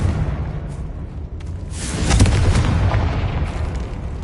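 The Confringo fire spell exploding in Hogwarts Legacy on PS5, a single loud booming burst that swells midway and fades into a rumbling tail.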